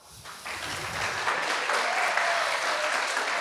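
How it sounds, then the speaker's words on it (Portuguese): An audience breaks into applause for a colleague about to present, building quickly from a quiet start into a full, steady wash of clapping that holds to the end. "eu quero que vocês deem uma salva de palmas para o Daniel."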